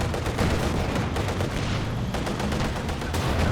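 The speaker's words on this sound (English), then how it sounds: "Got a second machine gun now for the Red Kaiser, who has locked into Jaeger armor." Dense, continuous machine gun fire and distant explosions from a Company of Heroes 2 3v3 World War II battle, a steady rattling barrage filling the whole stretch with no voices.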